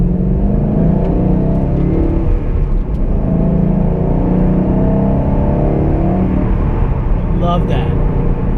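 A cold 2012 Ford Mustang GT V8 is driven in San Diego and given a brief rev, its engine making a loud, steady, deep rumble and roar that sustains throughout without a break.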